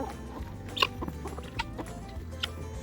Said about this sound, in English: These are tiny chickens. They're weird chickens.